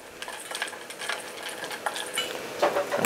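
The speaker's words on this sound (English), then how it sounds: "Orange blossom honey. I'm just going to stir it around." Orange blossom honey with pistachios is being stirred in a pan, giving soft, steady scraping and clinking of a utensil against the pan over a quiet kitchen background.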